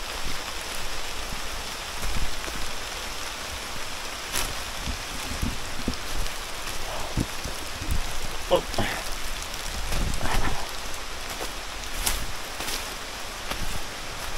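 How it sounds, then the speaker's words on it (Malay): Rain falls steadily on a jungle hiking trail near Damai Waterfall in Malaysia, a constant hiss of drops on leaves and ground with scattered louder patters and faint rustling throughout. "hujan turun semula"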